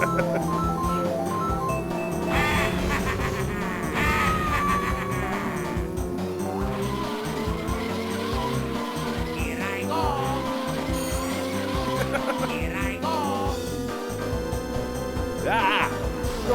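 Mario Kart 64 race audio carries cheerful game music under engine hum, with repeated chirps and squeals as karts drift and build mini turbos, all at a steady moderate level.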